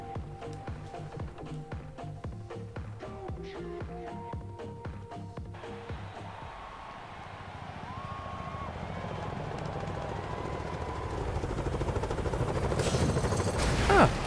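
A helicopter flies in the racing game Forza Horizon 4, its rotor and engine noise building steadily louder after background game music fades out.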